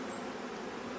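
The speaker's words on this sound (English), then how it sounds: "So you're looking at worker bees, and these worker bees, they are responsible for different tasks within the hive." Honeybee workers buzz steadily at the hive, a dense continuous drone filling the clip at close range with no voices.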